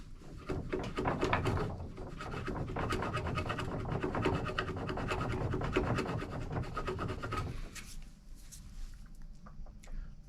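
Chisel scraping and paring along a wooden boat toerail, a dense run of close, rasping strokes that stops abruptly near the end, leaving quieter scattered scrapes.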